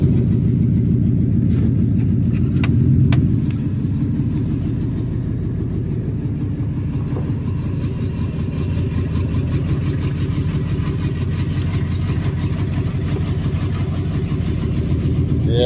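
A misfiring engine idles close by, its steady, uneven low rumble running unbroken for the whole stretch with a slightly louder moment near the start and no voices over it.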